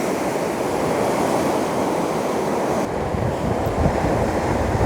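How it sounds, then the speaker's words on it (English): Ocean surf rolls steadily onto the shore, a continuous loud wash of breaking waves with wind buffeting the microphone throughout, no voices. "All the waves are coming in hot now."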